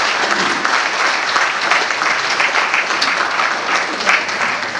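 Sustained audience applause fills a final vows ceremony for a Jesuit brother in Ranchi, steady dense clapping from a crowd throughout with no pause.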